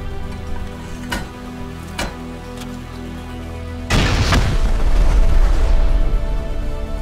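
Video game Rust combat: a few sharp gunshots crack over a low background hum, then a heavy explosive blast breaks into a sustained, loud rumbling roar as a turret is destroyed.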